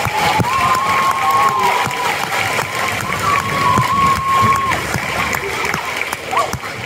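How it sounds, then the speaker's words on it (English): Audience at an elementary school fifth grade graduation applauding and cheering for the teachers, a loud steady crowd roar with clapping, shouts and children's voices throughout. "So let's give them a round of applause."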